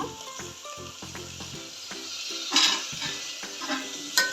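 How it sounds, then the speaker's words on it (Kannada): Ground masala with softened tomato frying in a pan for vegetable pulao, with quiet sizzling, a few scraping stirs and clinks of a spoon over soft background music. "ಹಸಿ ವಾಸನೆ ಹೋಗುವವರೆಗೂ ಫ್ರೈ ಮಾಡ್ಕೊಳ್ಳೋಣ"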